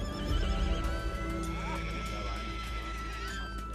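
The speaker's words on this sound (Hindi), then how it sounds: "ठाकुर को एक घोड़ी की दर्द भरी आवाज सुनाई दी" A mare whinnies in distress in a film trailer scene, with a loud, wavering neigh drawn out over several seconds above a low rumbling background.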